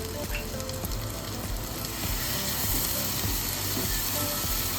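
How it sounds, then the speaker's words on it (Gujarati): Chole garam masala, cumin powder and halved green chillies sautéing in hot oil, giving a dense, steady, close sizzle with no talk. "અને તેલ છૂટે ને ત્યાં સુધી આપણે સાતરી લેશું"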